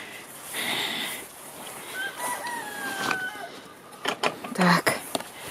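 Hens cluck and a rooster crows amid a busy coop, with a person talking nearby and some scattered bird calls throughout.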